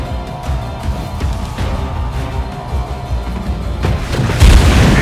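Firing and explosions in the video game The Falconeer as a turret is destroyed: dense rumbling booms and crackling blasts build up, ending in a heavy, loud low-end burst.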